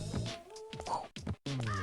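Crows caw on rooftops in a video game, harsh and fairly close amid busy game sound, with a sharp break partway through.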